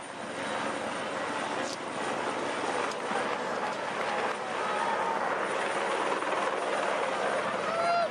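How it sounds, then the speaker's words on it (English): A helicopter hovers high above a Tour de France mountain stage in 2016, its steady rotor and engine drone filling the whole stretch loudly and continuously with no talk over it. "Our helicopters right up above the race."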